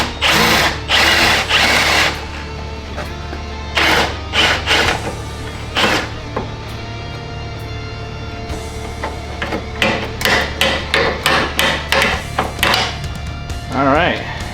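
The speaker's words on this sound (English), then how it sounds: "we got 1 more bit to drill out and this thing is coming off." A power drill whirs in repeated short bursts, close and loud, with pauses between, drilling out a bolt on a Mitsubishi Evo X, and a person talks in between the bursts.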